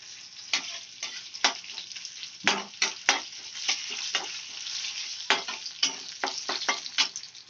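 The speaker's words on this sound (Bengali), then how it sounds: "আমি একটু ভেজে নেব।" Curry leaves crackle and fry in a chickpea masala, making a busy sizzle punctuated by frequent sharp pops and spatula stirs, close and fairly loud, with no voices.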